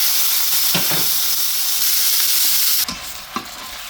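Chicken drops into hot cooking oil in a saucepan and sizzles loudly and steadily, with a couple of short utensil clinks and a dip in the frying noise near the end.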